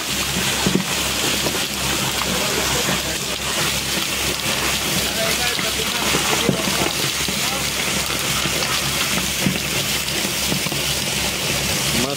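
Boat engine running steadily on a river during a gold-mining trip in Kalimantan, a continuous broadband drone with patter like rain on the surface and faint voices underneath.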